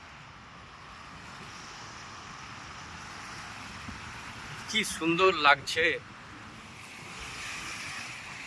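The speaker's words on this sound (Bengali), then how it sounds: "ব্যারেজে জল ছেড়েছে, দেখুন কত ঢেউ।" Waves from water released at the Durgapur Barrage churn and wash in a steady broad rush outdoors, with wind buffeting the microphone and a person briefly speaking midway.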